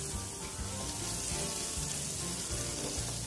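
Onions, green chillies and a few dried red chillies with bay leaves frying in hot oil in a pan, a steady close hiss and crackle running evenly throughout with no talk.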